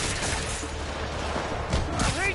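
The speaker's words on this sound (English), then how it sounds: "More rockets? A little excessive, don't you think?" Rocket fire and explosions in the Spider-Man Remastered video game, a dense continuous barrage of booms and blasts with a whooshing streak near the end, loud throughout with game noise layered on top.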